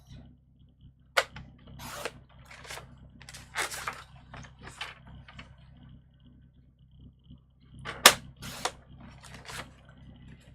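Card paper is cut at its halfway marks with a paper trimmer. There are several short, distinct slicing strokes, some close together and others spaced apart, against a quiet background.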